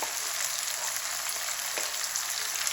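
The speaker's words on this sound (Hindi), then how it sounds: "अब साथ ही मैं प्याज डाल दूंगी।" Onions frying in a pan for a bitter gourd dish, with a soft, steady hiss of oil at moderate distance and no voices.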